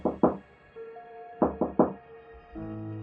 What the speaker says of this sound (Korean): 누군가 방문을 두드렸다고 한다.